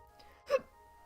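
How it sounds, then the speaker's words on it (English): A single sharp hiccup, a short abrupt gulping catch of breath, close and alone against a faint steady hum. "Oh, I better not be getting hiccups."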